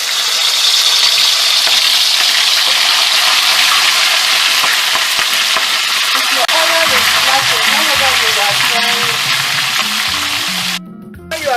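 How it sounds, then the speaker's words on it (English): Goat meat frying in hot oil for a stew, a loud, close, continuous sizzle and hiss. A voice comes in during the latter half over the crackling. "So this time I'm going to fry my goat meat. My oil is hot here."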